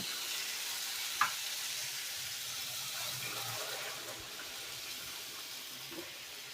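Water poured into hot potato kofta gravy in a pan sets off a soft, steady hiss and bubbling, quiet and close, with one small clink near the start and no speech.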